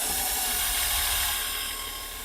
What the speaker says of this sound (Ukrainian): Давайте попробуємо його просверліти, чи реально просверли, чи ні.